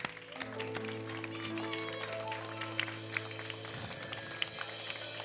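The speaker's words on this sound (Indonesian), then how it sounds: "Tepukan untuk Dia." An audience at a televised Popstar singing competition concert claps for a departing contestant, a continuous mass of applause under a sustained musical tone.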